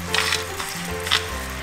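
Oxtail and vegetables sizzle in a hot pot for a Roman coda alla vaccinara, a steady close frying hiss with a few brighter crackling bursts.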